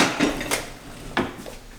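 A spatula is pulled from a set of kitchen utensils during banana bread baking, giving a few close, brief metallic clatters and clinks, with quieter rattling between them.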